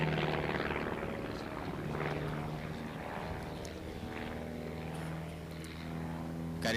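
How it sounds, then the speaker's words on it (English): An antique airplane's piston engine droning through aerobatic manoeuvres at an antique fly-in airshow, a steady, fairly distant propeller roar with shifting pitch as the aircraft moves. "Listen to that beautiful engine."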